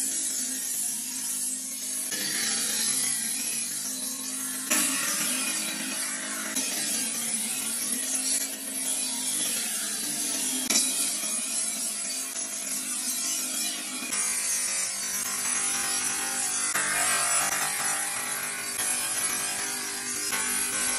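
A blade is sharpened in long, repeated abrasive strokes, a steady rasping scrape that continues throughout at close range with no talking.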